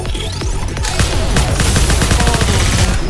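Gunfire from the video game NIKKE comes as dense, rapid bursts of shots, loud and continuous throughout, like sustained automatic fire.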